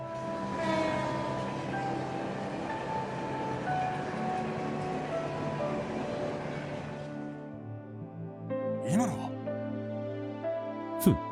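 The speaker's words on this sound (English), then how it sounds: "The last train bound for Calvard." The last train bound for Calvard in Trails From Zero rolls past with a dense rumbling clatter and tonal hum that cuts off abruptly, followed by quieter hum, chimes and a brief horn-like sweep near the end.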